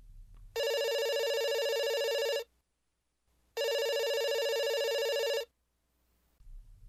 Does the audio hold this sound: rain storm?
no